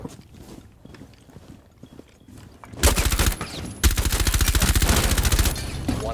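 Rapid automatic gunfire from Rainbow Six Siege sprays through a wall in two loud sustained bursts after a quieter stretch of scattered clicks and movement.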